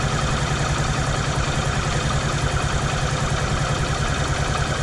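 A Honda CB125E motorcycle engine idles close by at around 1400 to 1500 revs after a carburetor service, a steady constant low rumble with even pulsing rhythm, no other sounds.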